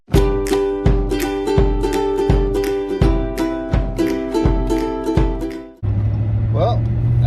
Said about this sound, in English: that was my alarm to say,